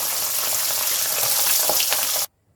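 Tengra fish fry in mustard oil with a loud, dense, close sizzle that holds steady for about two seconds and then cuts off abruptly to silence.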